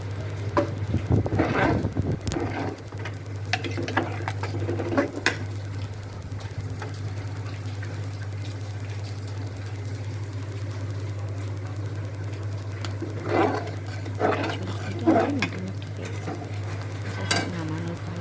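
Ground coriander, chilli and turmeric powders fry in a pan beside khichuri, with steady low sizzling and scattered scraping stirs near the start and again toward the end, over a constant low hum.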